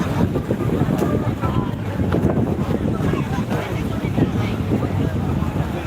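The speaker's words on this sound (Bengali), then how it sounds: "তবে সমুদ্রটা অনেকটাই উত্তাল রয়েছে" Rough sea at Digha beach, with a loud, steady rumble of surf and strong wind noise on the microphone over several seconds, and faint voices in the background.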